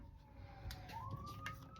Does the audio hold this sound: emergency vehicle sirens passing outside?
yes